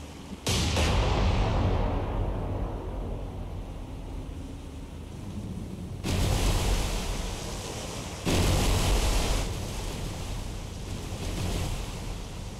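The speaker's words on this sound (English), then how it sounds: "Right. Main battery. Fire." Naval main battery gunfire in War on the Sea: a heavy boom hits at the start, followed by two more blasts, all layered over continuous roaring wind and sea noise.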